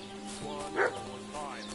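A dog barks in the video game Kingdom Come: Deliverance 2, a single short bark standing out over steady game ambience and music, with a second fainter yelp shortly after.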